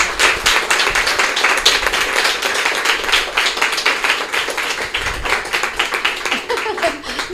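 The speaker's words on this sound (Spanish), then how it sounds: "un aplauso, gracias Raquel." A small audience at a talk claps in a distinct, fairly rhythmic pattern of individual hand claps, close and lively, continuing steadily for several seconds with faint voices underneath.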